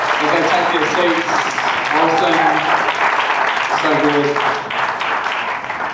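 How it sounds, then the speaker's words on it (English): A crowd at a live panel event claps and cheers as the panelists take their seats, a dense steady roar of applause with voices mixed in throughout. "can we give the panel a big round of applause as they take their seats?"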